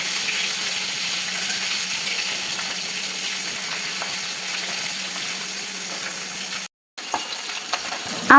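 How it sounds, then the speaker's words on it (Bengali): Gulsha fish sizzles in a frying pan, a steady close hiss of hot oil that runs continuously and breaks off for a moment near the end before resuming. "আমার মাছ ভাজা শেষ।"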